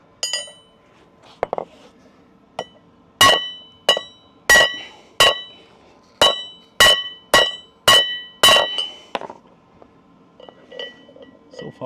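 A small hammer strikes a welded rebar workshop shelf during an impact test, giving about ten sharp metallic clanks with ringing overtones, a few soft taps first, then a steady run of close, loud hits and fainter knocks after.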